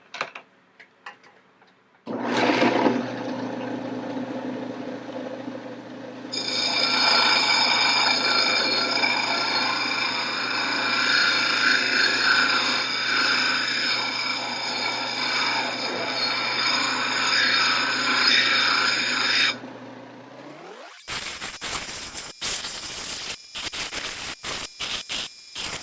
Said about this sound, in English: I'm going to spare my 80 grit wheel a little bit and hog it out on this 300.